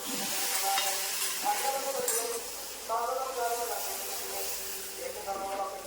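Tempering for a spinach sambar fries in hot oil with a continuous crackling sizzle and stirring, while a voice talks over it now and then.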